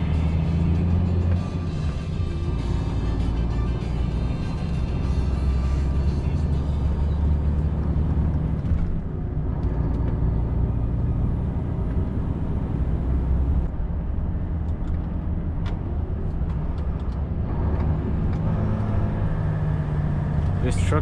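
A Volvo FH460 LNG semi-truck heard from inside the cab while driving, with a steady, loud low engine drone and road roar that continues throughout, and occasional talk in the cab.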